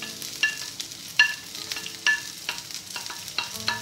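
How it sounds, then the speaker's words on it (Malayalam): Garlic, ginger, green chilli and curry leaves sauté in hot oil for bitter gourd pickle, a soft sizzle broken by sharp spoon clinks against the pan at a steady stirring rhythm. "ഇനി ഇതിൻ്റെ അകത്തോട്ട് വെളുത്തുള്ളി ഇഞ്ചി പച്ചമുളക് കറിവേപ്പില ഇവയെല്ലാം ചേർത്ത് നന്നായി വഴറ്റിയെടുക്കാം"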